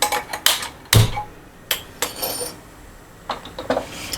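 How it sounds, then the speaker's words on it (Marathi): A steel kadhai and its lid are picked up and set aside in a home kitchen, giving several sharp, close metallic clanks and clatters spaced irregularly, with no talking. "ही मी स्टीलची कढई घेतली आणि हे झाकण आहे त्याच्यावरचं हे बाजूला ठेवतात"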